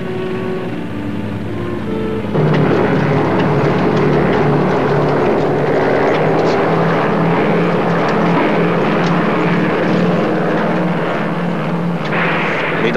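A propeller airplane drones steadily and loudly overhead, a thick engine roar with a low throbbing hum that swells after a couple of seconds and then holds constant.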